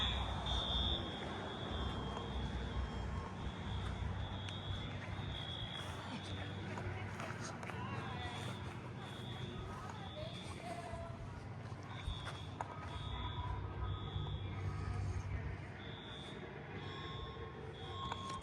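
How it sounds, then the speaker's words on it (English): A fire alarm under test sounds a high, repeating electronic beep in steady pulses, partly in broken runs, over a constant background rumble and faint movement noise. "Fire alarm testing"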